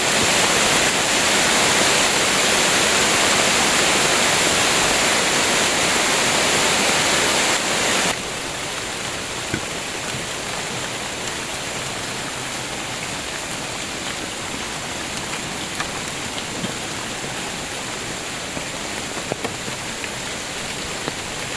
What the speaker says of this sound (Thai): นี่ครับบรรยากาศฝนตกแดดออกครับมีลมด้วยครับ